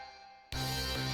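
A synth movement bass line returns in a fighting game track, entering abruptly after a quiet half second of fading pad and then sounding loud and full with the rest of the mix.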